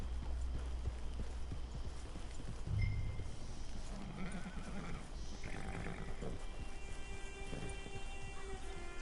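A horse's hooves clip-clop steadily at a walk in the video game Red Dead Redemption 2, soft and fairly distant against quiet outdoor ambience with a faint low rumble.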